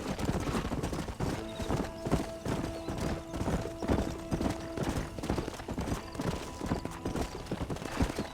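Horse hooves clip-clop at a steady trot in the Western video game Red Dead Redemption, a continuous rhythmic patter of moderately quiet hoofbeats with a brief tonal hum partway through.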